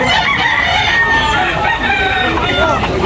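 Roosters crow amid a loud, dense din of clucking fowl and background chatter at a gamefowl gathering, several calls overlapping throughout.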